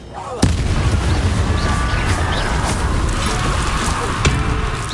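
Fiery spell bursts in Hogwarts Legacy, a sharp crack near the start and another late, over a dense roaring wash of combat effects and rumble throughout.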